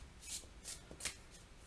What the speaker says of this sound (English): I'm just going to shuffle it a bit.